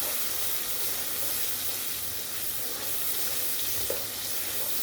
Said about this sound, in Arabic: خلي وشك دايما بعيد عن الحاجه دي، عشان بتطلع بخار جامد